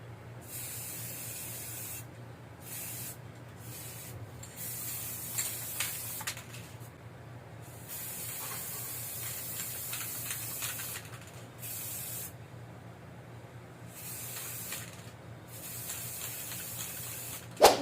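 Spray paint goes onto a cabinet to turn it white in repeated steady hissing bursts separated by short pauses, close and moderately quiet, with no talking.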